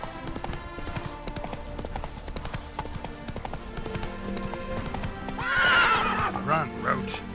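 Geralt's horse Roach in Witcher 3 gallops with steady clip-clop hoofbeats and gives a loud neigh near the end, over game music, with a voice talking.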